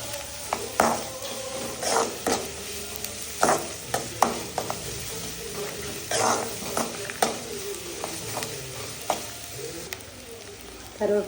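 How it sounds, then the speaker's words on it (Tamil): Onion, garlic, fenugreek seeds and green chilli fry in oil for a kuzhambu, a steady sizzle punctuated by repeated clinking scrapes of a ladle against the pan, close and even. "வெங்காயம் நல்லா வதங்கட்டும்."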